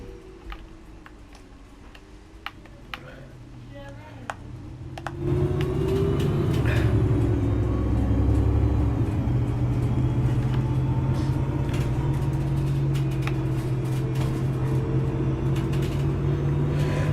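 A bus in a Roblox game slowing and turning at a roundabout, heard as a steady low engine drone that grows louder and fuller partway through, with faint ticking clicks over it.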